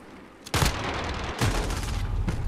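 Video game gunfire in Modern Warfare, two sharp loud bursts of shots about a second apart with a third starting near the end, close and dry over a low background hum.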